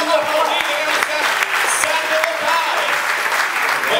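Dense audience applause at a communication festival, steady clapping throughout for a few seconds, close and loud with a voice talking over it.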